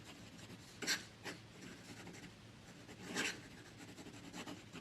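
Pilot fountain pen with a soft fine (SF) nib scratching quickly across paper, a faint continuous rasp with a few louder strokes standing out, close and with no talk.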